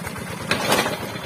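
A steady tractor engine rumbles at close range, running continuously at an even idle-like pace with a slight surge midway.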